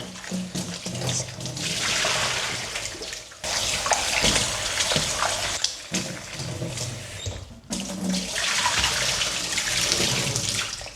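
Water gushes steadily from a tap in bursts, splashing into a basin, briefly cut off twice before flowing again.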